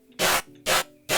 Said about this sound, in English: So it gives the ringy sound at the end.